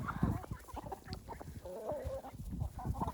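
A flock of chickens clucks on a farm of about 80 chickens and ducks, a busy overlapping chorus of close clucks and squawks, loud and continuous without talk.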